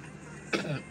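A single short cough bursts out close by over a low background hum during work on wiring a motorcycle battery.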